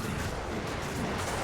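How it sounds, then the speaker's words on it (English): Corpse explosion spell in Diablo 2 Resurrected, a dense roaring blast of crackling, rumbling noise that fills the whole moment, loud and sustained without any speech. "Give me a corpse explosion."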